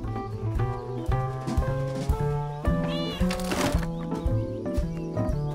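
Cat meowing in the video game Mineko's Night, repeated mews over a steady game music bed with harmonic tones, moderately loud and continuous, no voices.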